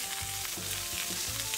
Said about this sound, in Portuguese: uma torradinha na vagem e grelhar também o nosso atum